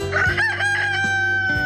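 A rooster on a free-range farm crows one loud, close, sustained call with a rising then held harmonic tone, heard alone.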